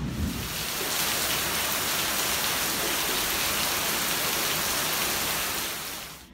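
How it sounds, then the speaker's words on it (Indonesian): Heavy rain pours down in a dense, steady roar, loud and constant, swelling in over the first second and fading slightly near the end, with no voices. "hujannya makin gede"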